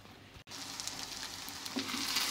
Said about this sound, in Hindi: सब प्याज़ों को मिक्स कर दें और ये भी तेज़ आंच के ऊपर फ्राई होंगे